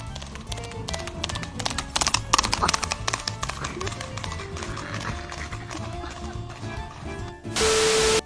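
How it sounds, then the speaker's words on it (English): Horse hooves clip-clop in a quick, uneven rhythm on a hard surface, from a horse used for a food delivery, with a voice speaking over the clatter before a sudden burst of noise at the end. "this delivery guy used a horse to deliver food to the customers"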